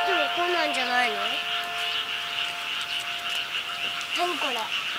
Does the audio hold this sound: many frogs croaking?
yes